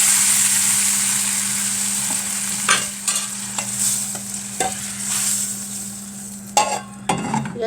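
Hot oil with fried garlic and onion is poured over cooked lentils, giving a loud steady sizzle with a few sharp spoon clatters and stirring scrapes near the end.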